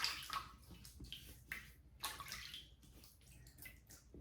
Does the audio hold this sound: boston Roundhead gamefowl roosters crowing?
no